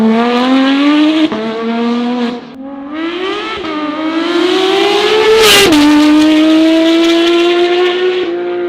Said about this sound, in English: So I have R1 headers and R1 titanium exhaust, which makes my car way louder.